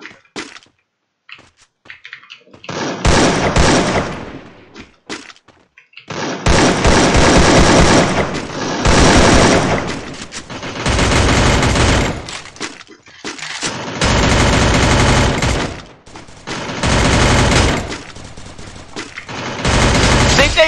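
CS:GO gunfire, repeated loud bursts of rapid automatic shots in several long volleys separated by pauses, with excited players talking over the gameplay.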